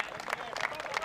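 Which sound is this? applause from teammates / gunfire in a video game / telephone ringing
applause from teammates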